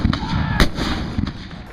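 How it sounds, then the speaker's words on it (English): Civil War cannon fire shelling a ridge at the Battle of Cedar Creek: several sharp booming blasts, one especially loud near the middle, over a rumbling low background. "Now Jubal Early brought up cannon and shelled this ridge."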